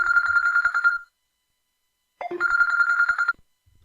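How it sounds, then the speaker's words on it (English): A telephone rings in two bursts of trilling electronic bell tone separated by about a second of silence, clear and close, with no talk over it. "Phone is ringing."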